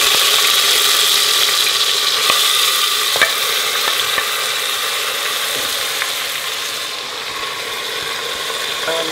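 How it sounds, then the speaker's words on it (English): Marinated mutton or chicken meat with its juices going into a pot for meat pilau, a loud continuous sizzle with scattered metallic scraping and clinking as it is stirred. "after taking out the onions, I'm going to add all this meat in here."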